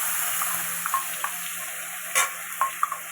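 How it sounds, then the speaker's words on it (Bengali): Potatoes fry in a pan with a soft continuous sizzle, broken by a few light clinks and scrapes of stirring, and no talk. "এবার একটু আলুগুলো ভেজে নেবো।"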